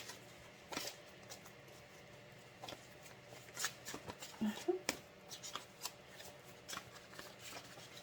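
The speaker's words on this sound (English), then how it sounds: "Because they're so flimsy, sometimes it's hard to get them to shuffle." A deck of flimsy cards is shuffled by hand, giving soft irregular riffles and flicks that come in short bursts under a quiet room tone, with some low talking in the background.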